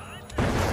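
Grenade detonating in The Finals, a shooter video game, a sudden loud burst about halfway through that stays heavy and noisy to the end, over constant game background sound.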